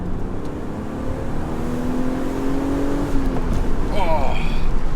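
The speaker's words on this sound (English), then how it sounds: "Oh, that is a full pull, full throttle, up to 80 kilometers" A BMW Z3 accelerates hard from a standstill at full throttle, its engine note rising steadily in pitch inside the cabin under loud road and wind noise, with a brief voice near the end.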